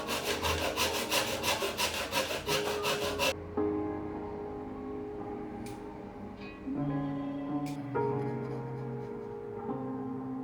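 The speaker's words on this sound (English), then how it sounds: "I took my time and cut these as carefully as I could." A hand saw cuts through wood for furniture pieces, its rapid rasping back-and-forth strokes loud and close for about three seconds before giving way to quieter workshop sounds.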